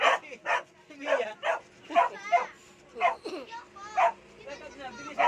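A mixed-breed aspin dog gives short barks and yips in bursts, close by, alongside children's voices and talk in Filipino.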